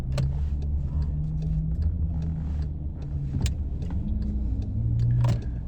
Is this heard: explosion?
no